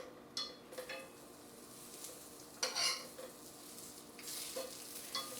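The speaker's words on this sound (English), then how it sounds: "they've been sauteing for a minute here" Whole wheat chicken and three-bean chimichangas sauté in a pan under a steady sizzle, with a few sharp scrapes and clinks of a utensil against the pan and no talking.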